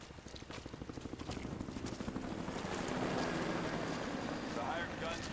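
A helicopter in the PS4 game Rise of the Tomb Raider gives a rhythmic rotor chop that grows into a loud, steady engine roar over about five seconds, mixed with wind and game ambience.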